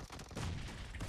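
Kar98 bolt-action rifle shot in the battle royale game PUBG, a sharp blast with a booming tail, loud and close, with no talk.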